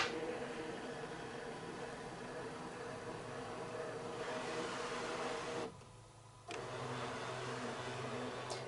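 A Brother ScanNCut machine scans scraps of fabric laid on its mat, giving a steady, faint mechanical whir with a short dip partway through before the hum resumes.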